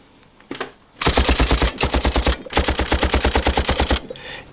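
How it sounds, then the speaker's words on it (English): Rapid gunfire under a restaurant table: two long bursts of fast, evenly spaced shots, loud and close, separated by a brief pause, with a few softer sounds before the first burst. "I'll shoot close to the leg so it makes less noise."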